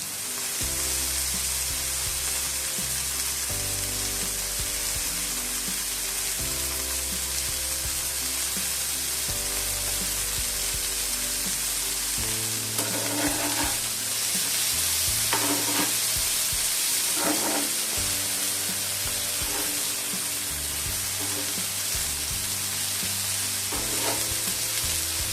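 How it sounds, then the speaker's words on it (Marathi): Bombil (Bombay duck) fish frying in a pan with turmeric and no oil, a constant close sizzle with occasional stirring clinks and scrapes, no talk. "आता आपण बोंबील तळून घेऊया"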